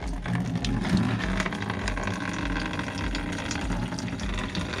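Coolant drains steadily from a 2010 Mazda 6 during a thermostat and coolant change, a continuous close gushing, splashing pour of liquid with a low rumbling undertone, no talk.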